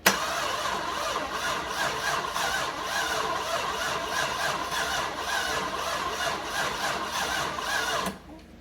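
A Cadillac Northstar engine, hydrolocked and frozen, cranks steadily on its starter without firing, a rhythmic whirring churn that runs continuously for about eight seconds and then cuts off abruptly.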